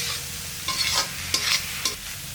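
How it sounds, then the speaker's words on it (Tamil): Chopped vegetables being stirred into scrambled egg in a hot pan for egg fried rice, several distinct scraping strokes of a spatula over a soft background sizzle, close up with no talking. "இப்போ இந்த காயெல்லாம் இதோட போட்டு நல்லா மிக்ஸ் பண்ணிடலாம்"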